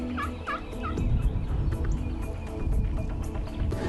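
A wild turkey tom on the roost lets out a few gobbling calls early on, fairly distant against a rumbling outdoor background.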